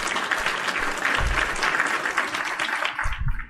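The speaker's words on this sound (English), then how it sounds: "clap it up for the reactions today" A small audience claps for a few seconds, a dense steady patter of hands that fades out at the end.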